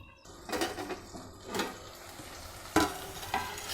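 Eggplant bharta masala cooking in a pan: soft stirring and scraping over a low sizzle, with a few louder scrapes of the spoon against the pan, quiet and close with no talk.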